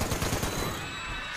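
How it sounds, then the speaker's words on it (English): Rapid gunfire rattles from a gun in Fallout 76 during a combat event, a dense burst of shots up close that trails off into a fading echo over about a second. "I'm gonna switch to my gun and just finish him off."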